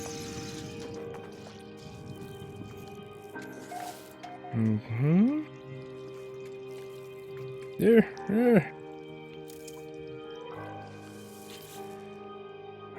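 Bubbling, dripping liquid sounds from a planet surface in the video game No Man's Sky, with soft squishy pops and two louder gurgling bursts over a steady tonal hum. A voice speaks briefly.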